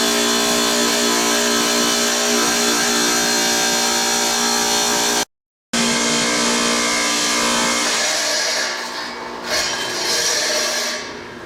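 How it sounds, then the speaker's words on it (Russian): A power saw cuts tile caps at 45 degrees for a stone fireplace, a loud continuous whining grind broken by a brief gap before cutting resumes and gradually tapers off. "Сейчас я буду пилить сюда наверх эти крышечки, заготавливать их по размеру сразу вот на 45 градусов"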